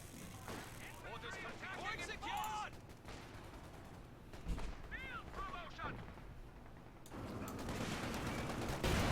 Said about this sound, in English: Got BARs and assault rifles coming up.